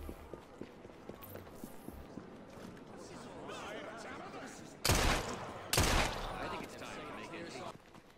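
Gunfire in the video game Assassin's Creed Syndicate: two loud, sharp bursts close together stand out over a busy street ambience of footsteps and crowd noise.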